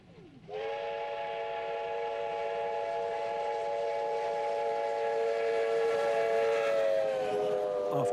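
Steam locomotive R761 hauls a special train over the secondary line from Ballarat to Maryborough in Australia. Its steam whistle blows one long, steady blast lasting most of the clip over a low rumble of the train.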